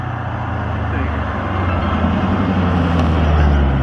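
A Dodge Hellcat's exhaust roars past as a loud, continuous low drone that swells slightly toward the end, with traffic-like rumble around it.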